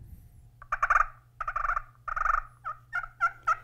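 A handheld wild turkey call imitating gobbling and clucking, a rapid series of bursts followed by shorter yelps, loud and close against a low steady hum.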